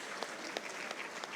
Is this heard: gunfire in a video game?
no